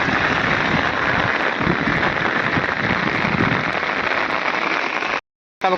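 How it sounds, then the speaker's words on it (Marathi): Steady, dense rain falls on a Konkan farm area, with continuous close patter that stops briefly near the end before resuming. "पाऊस काही जावचा काही नाव घेत नाही आमचं इकडं"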